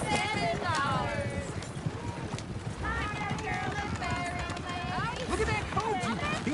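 Hooves of a horse-drawn coach in a video game clip-clop at a quick, uneven trot while a horse whinnies, with voices calling over the busy clatter.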